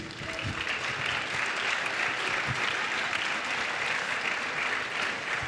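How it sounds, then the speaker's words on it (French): Steady, sustained applause from an audience, a dense wash of clapping that holds at full volume throughout. "Donc franchement, vous pouvez l'applaudir."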